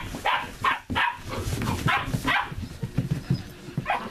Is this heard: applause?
no